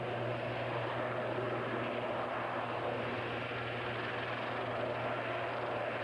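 A Royal New Zealand Navy Kaman Seasprite helicopter hovers at a distance at an air show, its rotor and engine making a steady, dense roar that never changes over the whole stretch.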